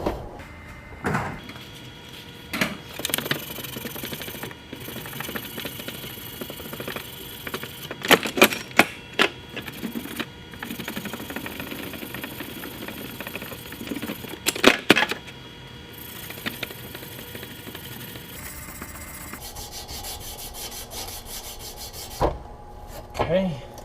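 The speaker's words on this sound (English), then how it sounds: "I'm going to clean the shaft up a little bit" Close rubbing and rasping as a shoe auger shaft is cleaned up after a worn-out bearing is removed, with bursts of scraping strokes at uneven intervals and short pauses between them, no talking.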